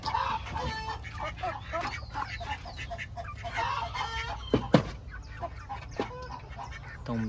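Polaco-variety Brahma chickens in a pen cluck and call busily close by, with overlapping squawks and a few sharper cries, over a low background hum.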